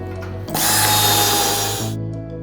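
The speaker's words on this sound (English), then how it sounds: "then get your screws installed" A power drill drives screws into a metal table leg plate, a loud, close, steady high whine lasting about a second and a half that winds down between idle pauses.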